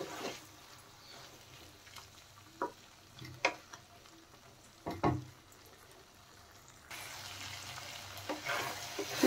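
Spice paste being sautéed with drumstick pieces and potatoes in a pan: quiet background sizzle broken by several spatula scrapes and knocks against the pan, ending in louder, denser frying hiss, no talking.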